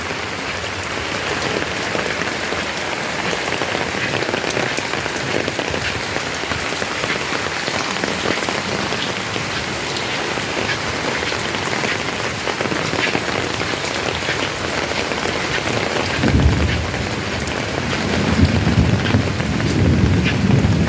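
Steady rain falls outdoors, pattering densely on surfaces all around with a constant hiss, with slightly heavier splashing toward the end.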